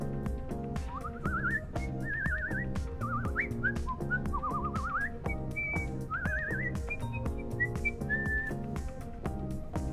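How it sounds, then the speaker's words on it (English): A person whistles a bright, melodic tune with trills and sliding notes over steady background music. "I can whistle so well that people often think I'm a Disney princess when I'm whistling."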